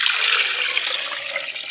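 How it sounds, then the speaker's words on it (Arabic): Water pours steadily over strained lemon pulp while it is pressed through with a ladle, a close, continuous splashing rush with no voices over it. "انا كي صفيتو دوك نضيف فوقه الماء ونبدا نصفيه به بالمغرف هكذا"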